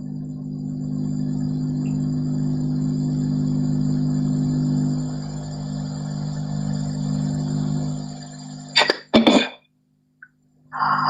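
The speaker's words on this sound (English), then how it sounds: "Sorry, excuse me, I was coughing." A steady insect-like drone with a low hum runs throughout a live broadcast, then a couple of sharp, close human coughs break out near the end before brief silence.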